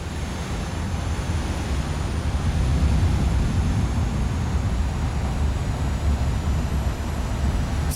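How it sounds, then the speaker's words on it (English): Large aircraft rolling on a runway in the video game Airport Manager Simulator 2026, heard as a steady low rumbling roar with broad engine noise that stays even throughout and has no talk. "So that bloody great big aircraft is following us"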